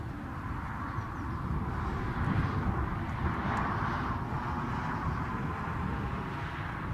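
An airplane arriving at Newcastle International Airport produces a low, steady jet roar at a distance, swelling slightly toward the middle and holding as a broad rumble without voices.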